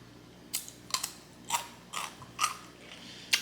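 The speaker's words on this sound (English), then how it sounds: "That crunch is so satisfying." Crunchy radish being chewed up close in a mukbang of black bean noodles, giving a series of crisp, irregular crunches roughly every half second in an otherwise quiet setting.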